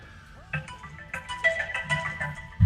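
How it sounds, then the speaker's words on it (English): A phone ringtone plays a bright, melodic tune close by, with a thump at the end, during a game stream of Sonic Adventure 2 Battle. "Sorry, that's my phone."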